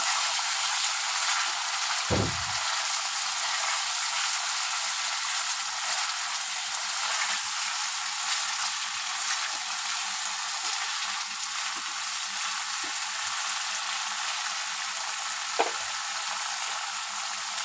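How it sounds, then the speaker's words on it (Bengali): Spice paste frying in oil for boal fish curry, a steady high sizzle that runs throughout, broken by a few soft stirring knocks. "মশলা বেশ ভালোভাবে কষানো হয়ে এসছে তেল ছেড়ে দিয়েছে"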